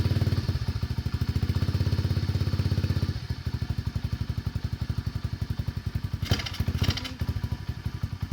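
An SSR 125cc pit bike's single-cylinder engine idles after a cold start in cold weather, chugging in a fast, steady, slightly uneven rhythm up close, with a couple of brief rev blips near the end.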